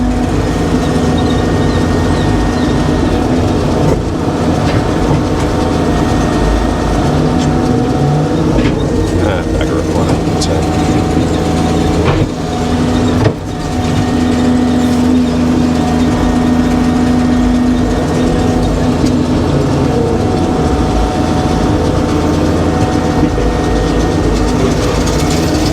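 A dry blower's engine runs steadily and loud throughout with a constant droning hum, briefly dipping near the middle before resuming.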